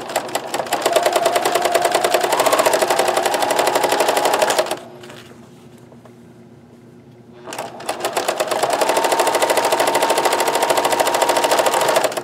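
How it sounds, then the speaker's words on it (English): A sewing machine runs stay stitching across the tops of denim pockets: a loud, rapid, steady mechanical chatter in two long runs separated by a short quiet pause. "We're going to do some stay stitching, which is what this is called, across the tops of all of our smaller pockets now."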